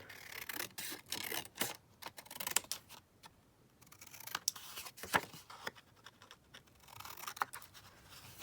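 Scissors snip repeatedly through a paper tag for a handmade Christmas craft project, giving a run of close, crisp cuts in uneven bursts with short pauses between them.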